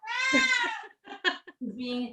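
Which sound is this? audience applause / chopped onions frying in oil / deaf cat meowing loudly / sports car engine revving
deaf cat meowing loudly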